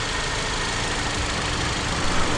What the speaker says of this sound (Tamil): இப்போ இந்த இன்ஜினை ஸ்டார்ட் பண்ணி பார்க்கலாம். ஒரு வைப்ரேட்டோட இந்த இன்ஜின் ஸ்டார்ட் ஆகுது.